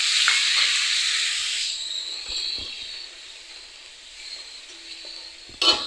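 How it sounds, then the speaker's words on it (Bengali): Bay leaves with cumin and ginger paste hitting hot oil, a loud bright sizzle that gradually settles, with a few stirring scrapes and a sharp clatter near the end, close by and without speech. "এর ভিতরে দুটো তিনটে তেজপাতা আর পেস্ট করে রেখেছিলাম জিরা আর আদা, এটাকে দিয়ে দেব।"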